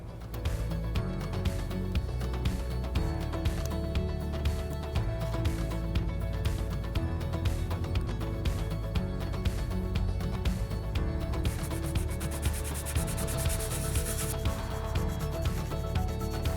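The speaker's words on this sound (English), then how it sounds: "it's time for some sanding" Cut letters for a prop book are sanded smooth in a long, continuous rasping rub, close and steady throughout, brightening near the end, with no talking.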